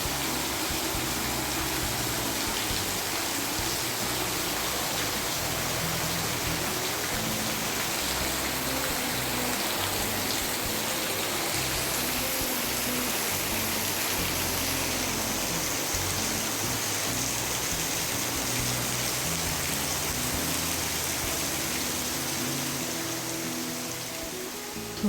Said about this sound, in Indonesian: Tuh sampai rumah tuh hujan deras banget teman-teman.